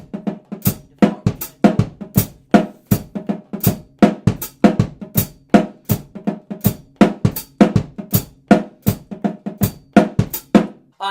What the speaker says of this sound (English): the next thing you'll see is the bass drum and the snare drum parts together.